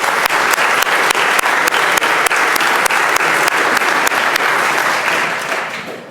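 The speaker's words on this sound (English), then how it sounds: "I hope you give a warm round of applause and welcome to the Tandem Friends" Legislators in the Virginia House chamber give a warm round of applause to visiting Tandem Friends School students, dense steady clapping from many hands with a few sharp louder claps, fading out at the end.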